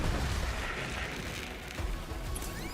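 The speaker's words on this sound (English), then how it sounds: "Explosions are going everywhere." Explosions rage in the video game Borderlands 3, a dense continuous wash of booms and bursts with low rumbling thuds throughout, loud and busy with no pause.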